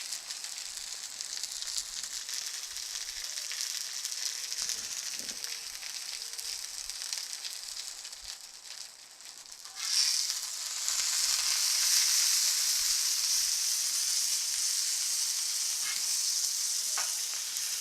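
An egg fries on a Blackstone griddle with a steady, close sizzle that grows louder and brighter about halfway through and then holds at that level.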